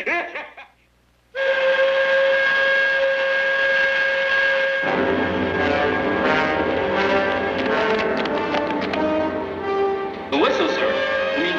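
A sugar mill's steam whistle blares long and steady at a constant pitch for several seconds, joined by a second tone partway through, with faint voices underneath.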